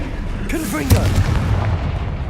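Confringo blasting curse detonating in the Hogwarts Legacy video game, a sudden booming burst layered over spell-casting whooshes and swirling magical effects, with a voice in the mix.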